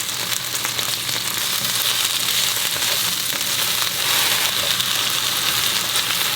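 Garlic frying in a pan for an okra and garlic stir-fry, a steady close hiss and sizzle that holds evenly throughout with no talk.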